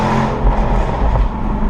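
Loud, close engine roar from a very fast car, a steady broadband growl with slight surges, with no talking.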